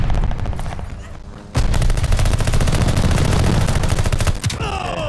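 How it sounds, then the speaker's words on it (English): Dense rapid gunfire from a strafing run in the Call of Duty: Vanguard multiplayer shooter, a loud continuous rattling barrage that briefly dips, then resumes at full intensity. "Let's strafe in your area."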